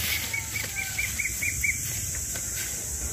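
Pigeons flap their wings in a quick series of soft rhythmic beats, a run of about eight flutters in the first two seconds at moderate volume, followed by quieter scattered rustling and no speech.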